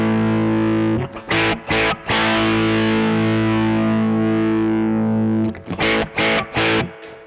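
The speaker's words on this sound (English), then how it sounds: "When I'm rolling the tone up full, it gets more bright than a regular humbucker to me." Gretsch G5622T semi-hollow electric guitar with Bigsby and the tone knob rolled up full gives a bright, distorted chord ringing long and loud, bracketed by short choppy strums at the start and end.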